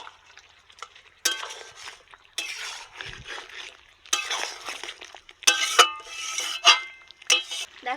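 Pre-heated water is poured into a hot pot of chicken curry in intermittent splashing, sizzling bursts, close and moderately loud, with stirring noises between the pours.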